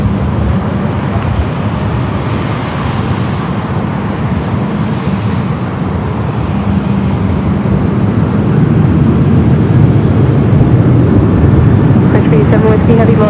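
A Southwest airliner takes off from runway 24 left at LAX, its broad jet roar sustained and gradually swelling louder across the whole stretch.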